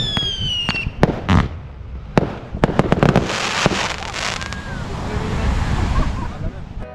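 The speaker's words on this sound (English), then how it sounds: "we were able to fire the firecrackers right into the dark sky" Firecrackers burst at night in Bali, a run of sharp cracks and pops, some close and loud, clustered early and then spaced out, over a steady rush of wind or surf with faint whistling streaks.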